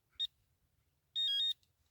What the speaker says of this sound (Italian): Sentite, ci sono i 3 bip e la vibrazione